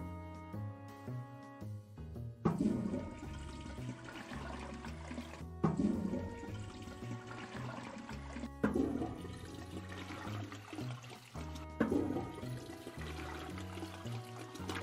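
Repeated toilet flushes in the Toilet Flushing Simulator video game, four surging water rushes each starting abruptly, layered over steady tonal background music.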